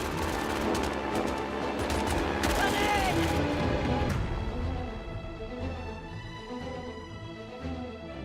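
A machine gun squad fires in a World War II video game, dense rapid bursts of gunfire for about four seconds that then drop back to lighter background battle noise.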